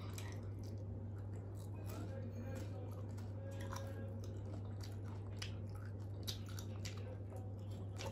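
Someone chews fried jalebi sweets at close range with soft, wet, squishy bites that repeat irregularly over a constant low background hum.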